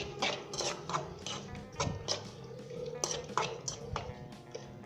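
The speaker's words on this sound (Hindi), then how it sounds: "दोस्तों हम अच्छे तरीके से मिक्स कर लेंगे" Fried potatoes being stirred into omelette batter in a bowl for a Pakistani aloo omelette, with a steady run of soft clinks, scrapes and wet slaps close by.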